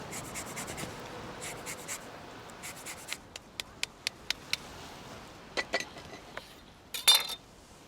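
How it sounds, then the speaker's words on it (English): A lime is zested over a dish, giving a series of faint, quick scraping strokes followed by a few light clinks of utensils, quiet and close. "Little zest of lime going in there too."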